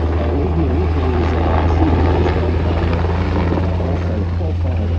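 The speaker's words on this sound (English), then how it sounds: "We've got a spectacular display from the helicopter right now." An MH-60R Seahawk helicopter flies a solo handling display at the Avalon 2025 airshow, its rotor and engine making a loud, continuous roar under voices talking throughout.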